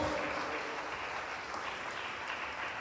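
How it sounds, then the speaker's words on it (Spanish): A church congregation claps steadily for the Lord, a continuous, fairly even wash of applause-like clapping with no voices standing out. "Dale fuerte las palmas al Señor en el nombre de Jesús."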